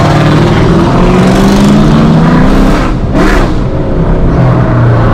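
A Dodge RT with a catless exhaust revs hard and close, a loud continuous engine roar that climbs and falls in pitch with a brief dip before surging again, with no talking over it.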